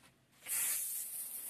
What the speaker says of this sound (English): I spray down the same amount of water that I would if I was going to bonnet clean